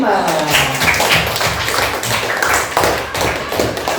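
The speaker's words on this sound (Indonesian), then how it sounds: "Tepuk tangan untuk kelas 5" Children in a class 5 classroom clap together, a dense steady patter of taps and thuds running for a few seconds, with a voice talking over it.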